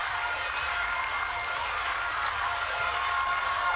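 An arena crowd at a rhythmic gymnastics ball final in Pesaro applauds and cheers in a sustained, dense roar of clapping that stays loud and even from start to finish.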